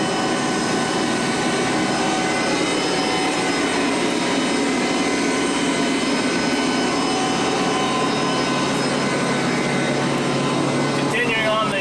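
Aircraft auxiliary power unit running, a constant loud turbine whine and broadband roar, steady and close throughout without letup.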